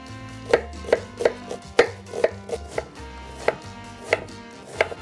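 A knife finely chops onion on a cutting board in a string of crisp, irregular taps, about a dozen quick strikes close up with no talking.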